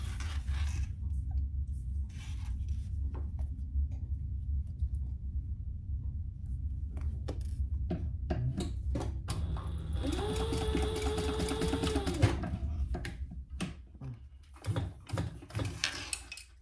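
A sewing machine stitches a fabric laptop case in short bursts, then runs one longer steady whirring seam with a rising motor whine, close and clear with no talk.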